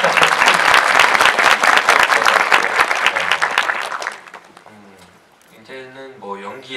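Audience applause breaks out during a Korean film talk event, a dense burst of clapping for about four seconds that fades as speech takes over.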